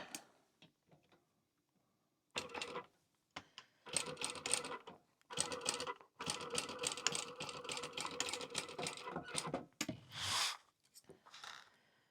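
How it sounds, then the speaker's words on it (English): Sewing machine basting a clear TPU wristlet, running in several rapid mechanical bursts separated by short pauses, close and fairly quiet. "I'm basting this on, so catch it when I sew it around."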